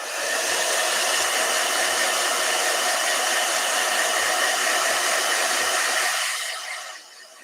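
A hair dryer runs loud and steady with a constant whoosh and whine, then winds down and trails off near the end.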